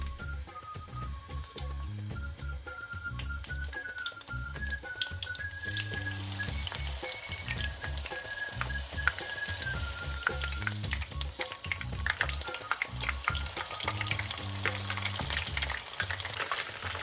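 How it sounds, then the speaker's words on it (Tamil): Oil sizzles and crackles steadily as prawn fritters deep-fry, with occasional stirring clinks and a faint melodic tone in the background; no talking. "இப்படி ரெண்டு பக்கமும் பிரட்டி பிரட்டி பொறிக்கணும்"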